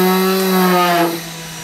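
An electric grinder whirs loudly and close while grinding ingredients for a digestive remedy powder, a steady high motor whine that winds down near the end.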